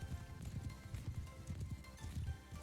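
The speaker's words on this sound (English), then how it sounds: "Oh, they have a guy on a horse." Horse hooves gallop in the medieval combat game Mount & Blade II: Bannerlord, a rapid, irregular clip-clop pounding at close range over a dense battle din.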